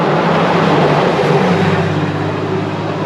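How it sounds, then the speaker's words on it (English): Traffic rumbles loudly across a covered bridge near the Homestead Woolen Mills Dam in southern New Hampshire, a dense continuous roar with a deep engine tone shifting partway through. "The amount of traffic that comes over here."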